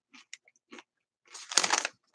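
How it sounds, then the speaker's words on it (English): Kettle-style jalapeño potato chips crunch in the mouth, a few short bites followed by a louder burst of close chewing, with no talk. "the feel of the potato chips in my mouth as I chew them"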